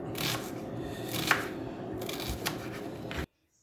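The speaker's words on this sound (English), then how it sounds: "we're just going to start slicing the onions" A knife slicing onions on a chopping board, producing quick close scraping cuts in a steady run with a couple of sharper knocks against the board before it stops abruptly.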